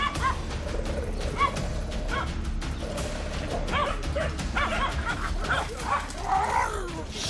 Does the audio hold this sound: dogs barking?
yes